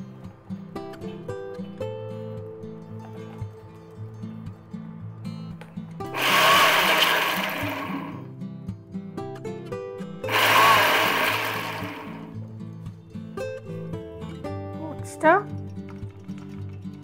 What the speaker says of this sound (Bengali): সেরকম সময় আমরা এটা একটু ব্লেন্ডারে দেবো। একবারে হবে না হয়তো, তো 2-3 বারে এটাকে গুঁড়ো করে নেব।